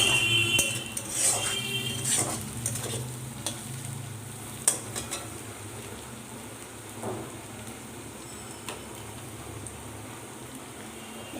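Ginger and garlic fry with onion in a pan for rajma, giving a steady close sizzle with a few light stirring scrapes near the start and no voices.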